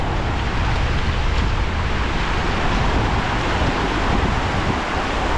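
Strong, deep river current rushing steadily and loudly, a constant broadband roar like surf or wind with no pauses, heard alone without talk.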